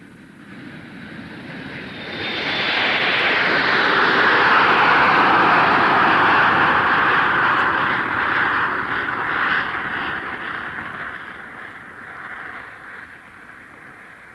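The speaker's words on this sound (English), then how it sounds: "The play opens in London Airport Control Tower" Aircraft ambience at the London Airport control tower as a radio play effect: a jet-like roar swells over a few seconds, holds loud and broad, then slowly fades under a steady background rumble.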